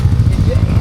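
A motorcycle engine runs close by in Palawan, a loud low rumbling pulse throughout, with people talking over it.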